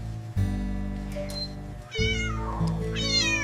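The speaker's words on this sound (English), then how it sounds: "Meow." A tiny kitten gives two drawn-out, rising meows, close and clear, separated by a short breath-like pause over a steady low background hum.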